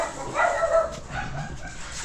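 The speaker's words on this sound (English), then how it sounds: "my dogs are barking right down here" A dog yips and barks a few times in quick succession, somewhat muffled and fairly faint.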